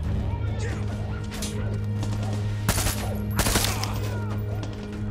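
Gunfire in Far Cry 6: two loud, sharp bursts of shots near the middle, over a steady low droning hum and faint scattered game sounds.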